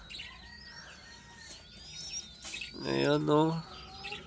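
A pet parakeet gives thin, high chirps and tweets close by, with a person speaking softly in between and over the bird calls.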